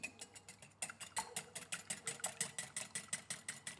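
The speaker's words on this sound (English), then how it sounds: "So to our bowl we add a whole egg that we're going to whisk up." A whole egg whisked in a bowl for tempura batter, a fast, even rhythm of light clicking strokes repeating several times a second, soft and close, with no talking.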